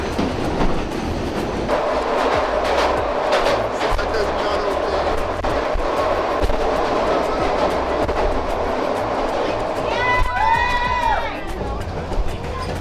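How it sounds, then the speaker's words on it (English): A 100-year-old train rumbles and clatters steadily along the rails through a cave in Spain, with a squealing screech of wheels near the end and faint voices in the background. "100-year-old train."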